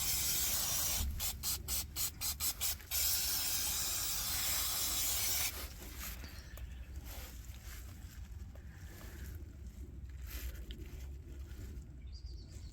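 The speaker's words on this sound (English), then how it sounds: "Clean up excess oil with brake cleaner." Brake cleaner sprays from an aerosol can onto excess differential oil beneath a Land Rover Discovery Sport, first as a loud, close hiss broken into several short spurts, then one long continuous blast, before fading to quieter workshop background.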